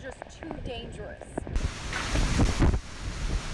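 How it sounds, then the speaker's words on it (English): Hurricane Irma's strong wind and pounding rain in Tampa, a harsh rushing roar of gusts buffeting the microphone that swells louder halfway through, with a voice talking briefly at the start. "We are just getting pounded by the rain here. The wind is so strong."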